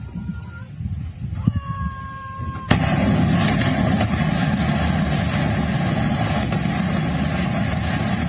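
Indian Army artillery guns firing: a heavy blast after a few seconds, followed by a sustained loud rumble with further sharp reports and mechanical noise, no speech.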